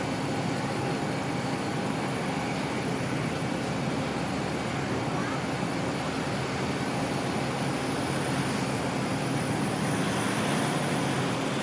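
Air Canada airliner in its minty green livery passing at Auckland Airport, a steady broadband jet roar holding loud throughout without clear rise or fade.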